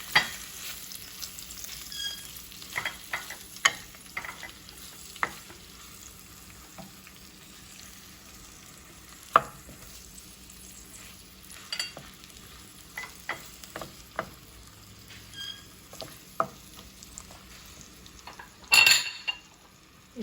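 Onions frying in a pan for eggplant bhurta, a soft continuous sizzle broken by repeated scrapes and clinks of a spoon stirring against the metal, steady and close with no talking.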